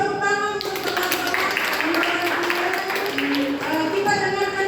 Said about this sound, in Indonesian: Terima kasih tepuk tangan untuk teman-teman.